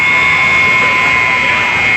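A loud, steady electronic buzzer blares through a hockey arena at the end of a period, a continuous high tone holding unbroken over a wash of crowd noise.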